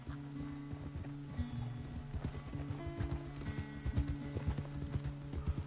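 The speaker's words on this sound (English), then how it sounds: "Let's confuse the horse and make him speed up again." Hooves clip-clop steadily from a horse in the Red Dead Redemption 2 video game, rhythmic and fairly close, with a few snorts and a game music drone underneath and no talking.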